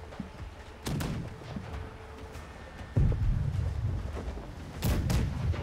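Musket shots in the naval combat game Blackwake, three loud sharp reports spaced a couple of seconds apart, each with a booming low tail, over ambient battle noise.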